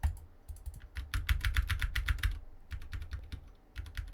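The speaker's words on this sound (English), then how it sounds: "Make sure you guys can hear every click of my keyboard." Rapid typing clicks on a computer keyboard, close and clear, coming in dense bursts with a short pause near the middle and no talking.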